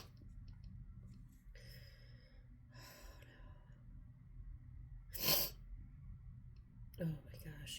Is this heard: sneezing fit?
yes